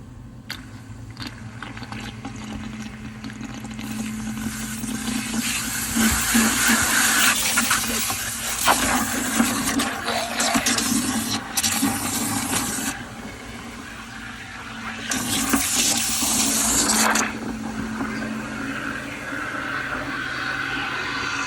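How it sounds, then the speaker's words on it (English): Fresh water rushes and gurgles through a self-contained marine air conditioner's plumbing during descaling, over a steady pump hum, surging louder in a few hissing bursts before settling. "I'm gonna start mixing in a bit of fresh water in here."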